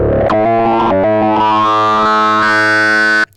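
An Arturia MicroBrute analog synthesizer plays a loud, sustained distorted tone whose aggressive filter sweeps and shifts over a few seconds before cutting off abruptly.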